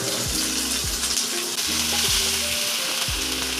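Chopped pumpkin, ridge gourd and okra fry in a pan, giving a steady loud sizzle with repeated scraping strokes of a stirring utensil every half second or so, and no talking.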